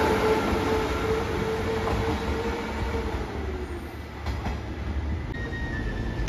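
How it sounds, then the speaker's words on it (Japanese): A JR Shikoku 1500 series local diesel railcar runs out of service from Takamatsu Station back to the depot, with a steady engine drone and a faint whining tone over a low rolling rumble that eases slightly midway. "1500系普通機動車。"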